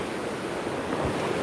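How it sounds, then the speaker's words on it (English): Rushing water of the Hope River in Jamaica after Hurricane Melissa, pouring down from the hills as a steady broadband roar, close and continuous with no voices. "So you see water is coming from way up into the hills"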